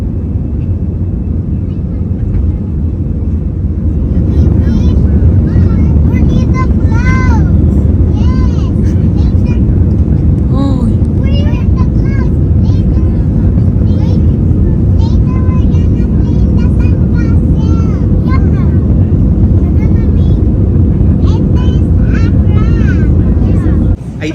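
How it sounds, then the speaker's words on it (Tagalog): Loud, steady jet engine roar of an airplane taking off, heard from inside the cabin, fills the whole stretch, rising slightly as it builds, with faint voices chattering underneath. "nalipad na ang aming eroplanong sinasakyan"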